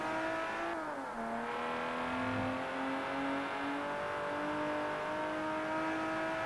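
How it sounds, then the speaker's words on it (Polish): A car engine in the video game Forza Horizon hums steadily at moderate volume, its pitch dipping briefly and then holding level, with no talking over it. "Bardzo fajnie słychać tutaj głos tego silnika."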